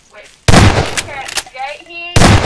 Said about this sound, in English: Let me just grab the shotgun and I'll shoot one.